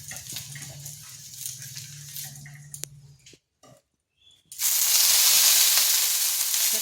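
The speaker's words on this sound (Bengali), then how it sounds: "এখানে তাওয়া বসিয়েছি, এবার সামান্য একটু তেল দিয়ে দিচ্ছি।" Oil on a hot tawa griddle, ready for potato and semolina dosa, gives a sudden loud, steady sizzling hiss that follows quieter kitchen clatter and a brief silence.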